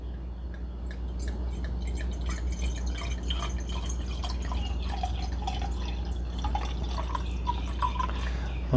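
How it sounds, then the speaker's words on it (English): Mead, a 1979 dry-edition bottle, poured into a glass: soft dripping and trickling liquid sounds with small splashes, fairly quiet and steady over a low background hum, no talking. "We can get it poured up."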